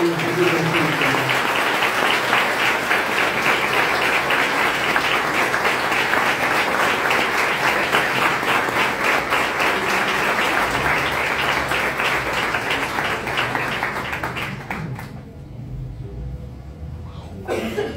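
A crowd at a mayoral candidates' debate in Arrecifes, Argentina, applauds loudly and without a break for a long stretch, with a few coughs, before the clapping fades near the end.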